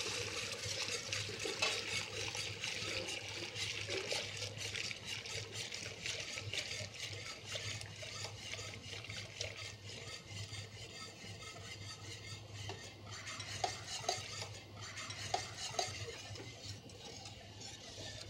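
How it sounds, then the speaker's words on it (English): Hot milk is poured into a roux for béchamel while it is stirred constantly, a steady liquid rush under rapid repetitive whisking clicks and a low hum, faint and continuous, no voices. "gradually add the hot milk to the roux while stirring constantly"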